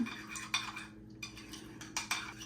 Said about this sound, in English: Get that water all mixed in with that sour cream and that buttermilk dill seasoning.